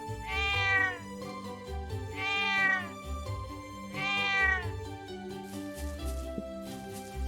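A cat in the video game Trails of Cold Steel meows three times in long, drawn-out cries, evenly spaced. Steady game music plays underneath, and no one speaks.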